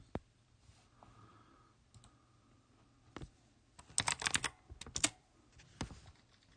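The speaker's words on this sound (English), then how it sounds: "my keyboard's really loud." Keyboard keys click in scattered taps, then a quick burst of rapid typing, close and crisp in a quiet room.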